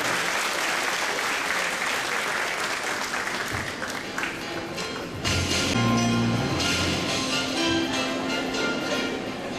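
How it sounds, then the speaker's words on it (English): An audience at an education expo claps steadily, a dense sustained wash of applause with some voices and cheers rising within it. "let's give a big round of applause to Miss Eve and Miss Catherine"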